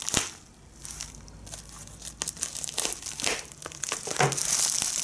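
A new box cutter slices open the plastic packaging of a GAN 356 Air SM speed cube, close crinkling and tearing sounds in short irregular bursts with scattered sharp clicks.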